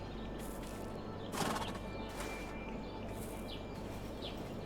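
A horse in the survival video game HumanitZ lets out a whinny around the middle, set against a steady low ambient hum with faint bird calls and a few soft hoof clops.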